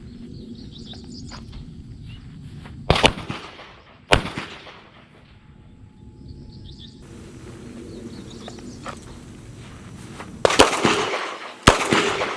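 Revolver fired in double action at practice targets on a shooting range, several sharp loud reports in uneven bursts, two close pairs around the middle and a quick cluster near the end, with outdoor ambience and birds chirping between shots.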